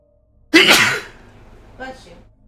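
A single loud, close sneeze bursts out sharply and trails off, followed by a brief softer vocal sound.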